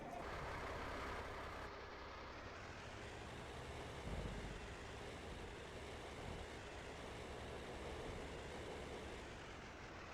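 A truck engine drones steadily in a survival roleplay video game, a low continuous rumble that stays fairly even throughout, with no one talking.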